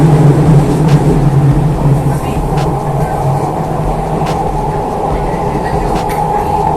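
A Jakarta MRT North South Line subway train running from Lebak Bulus, with a loud steady rumble and hum inside the car, a low drone and occasional faint clicks from the track.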